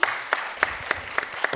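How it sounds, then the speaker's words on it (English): Audience applause at a panel roundtable on money in South Carolina politics, heard as a steady wash of clapping with sharper individual claps popping out at regular intervals, moderately distant and fairly quiet. "Applause, applause."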